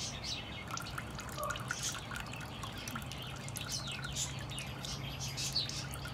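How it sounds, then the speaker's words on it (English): Fluid drips steadily from a Toyota Celica engine being drained in a garage, a soft continuous patter with faint bird chirps in the background. "I think we just let it drip while we get food."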